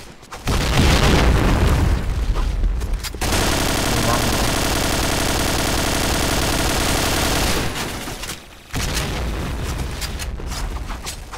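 Loud explosions in the video game Point Blank, a heavy booming blast followed by sustained roaring rumble and crackling debris, then another burst near the end.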